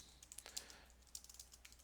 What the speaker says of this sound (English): now I can start typing just like I would